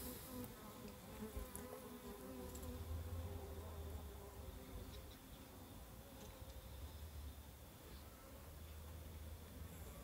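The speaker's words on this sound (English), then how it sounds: "The bees are acting a little bit unsettled" Honeybees swarm in a dense, continuous buzz around an opened hive that may be queenless, the drone close and steady with the colony sounding unsettled; no voices.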